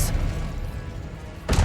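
Fire and blast spells cast in Hogwarts Legacy give a deep, booming rumble that fills the clip, with a sharper burst at the start and another loud blast near the end.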